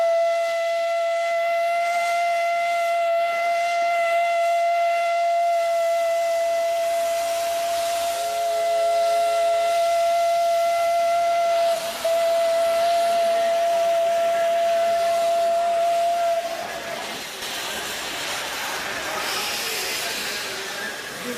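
A steam locomotive's whistle sounds one long, steady, piercing blast that holds for many seconds over a bed of hissing steam, then cuts off, leaving rushing steam and rumbling railway noise.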